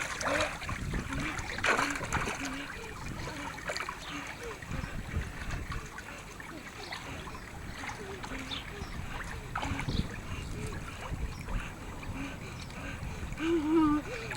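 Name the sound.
child splashing while learning to swim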